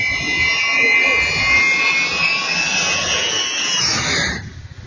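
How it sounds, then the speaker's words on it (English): A low-flying military jet transport, an Ilyushin Il-76 flown by the Ukrainian Air Force in training, roars past close by as a loud, sustained whine that holds steady, then cuts off sharply near the end. "An airplane just flies by right beside you."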